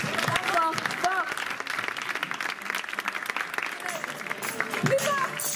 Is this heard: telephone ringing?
no